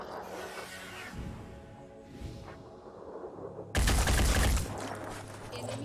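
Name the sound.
gunfire in the video game Phoenix Point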